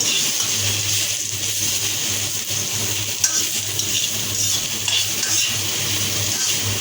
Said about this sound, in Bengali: তো প্রায় আলুগুলা ভাজা শেষ হয়ে গেছে